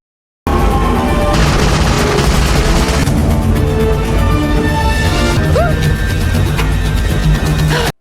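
Loud gunfire from pirates' weapons in a movie chase scene at sea, heavy booming bursts over a dense rumble of action noise, with several distinct blasts.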